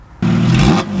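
A car's engine surges abruptly into a loud, close rev as the car pulls away under acceleration, a thick, steady drone that eases slightly near the end.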